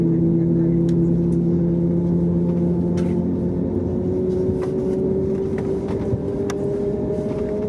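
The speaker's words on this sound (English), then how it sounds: "With the engines up and running," The engines of a TAP Air Portugal Airbus A321neo running during pushback at London Heathrow on a wet, rainy day make a steady, loud, humming drone with a faintly rising whine.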